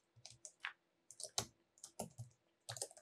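Code typed on a computer keyboard: irregular bursts of crisp keystroke clicks, some single and some in quick clusters, close and clear against a quiet background, with no voices.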